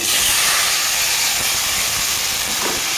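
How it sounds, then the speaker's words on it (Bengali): Paneer frying in hot oil for a Bengali vegetable biryani sends up a loud, continuous sizzling hiss, close and unbroken throughout, with no speech. "পনিরটাকেও ভেজে নেব"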